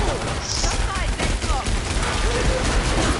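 Rocket launcher fire in the Destiny video game comes through as dense, overlapping blasts and crackling bursts, loud and busy throughout a short stretch of intense combat, with faint voice-like sounds under the din.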